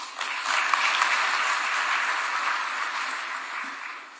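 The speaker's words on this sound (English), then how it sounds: "Let us give Commissioner Magud another round of applause" A conference audience in Nairobi applauds in a sustained, even round of clapping that swells quickly and then slowly tapers over a few seconds.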